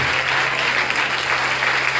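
A church congregation claps continuously at a parish vigil, a dense even wash of applause close and loud for the whole stretch.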